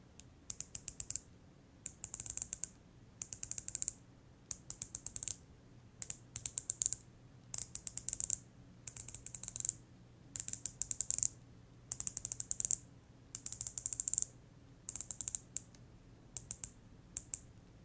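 A rotating ceramic dive-watch bezel on a Zenea Ocean Hornet ULA Diver ratchets around in repeated bursts of crisp, rapid, close clicks separated by short pauses.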